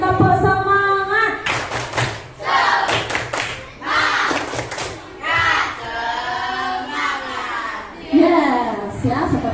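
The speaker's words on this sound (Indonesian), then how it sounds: "sekali lagi tepuk semangat." Children in a classroom clap a rhythmic spirit-clap pattern in quick bursts, with the teacher's and kids' voices chanting over and between the claps.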